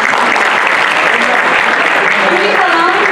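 Dense, sustained audience applause fills a Turkish classical music choir concert hall, steady and loud throughout with a voice briefly rising over the clapping near the end.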